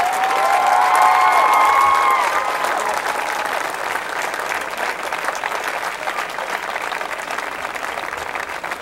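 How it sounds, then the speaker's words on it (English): A crowd of girls applauds steadily and cheers for a high school football coach at a field dedication, loud and sustained clapping with a few shrill voices early on, tapering slightly toward the end. "girls, I'd ask you to get up and give a big cheer for Coach Bruce Kay"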